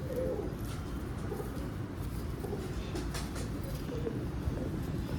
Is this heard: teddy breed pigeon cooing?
yes